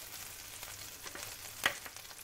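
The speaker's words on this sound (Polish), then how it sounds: "to masełko powinno mi się w miarę szybko rozpuścić" Butter melts and sizzles in a hot frying pan before an egg and spinach mixture goes in, giving a soft, steady crackle with one sharp pop near the end and no talking.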